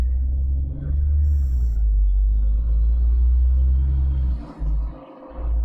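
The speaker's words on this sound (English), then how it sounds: "I do have a storm right now, so you might be hearing that as well." A storm rumbling outside, a deep continuous low roar that swells and dips, heard steadily from indoors with a brief lull near the end.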